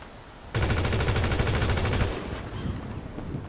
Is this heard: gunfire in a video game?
yes